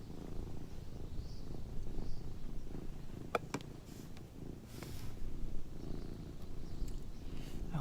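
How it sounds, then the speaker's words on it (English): A cat purrs in a steady, close, low rumble that runs the whole time, with a few brief clicks and soft rustles over it and no talking. "I hope you can hear her purr."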